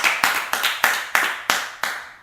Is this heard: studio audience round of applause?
yes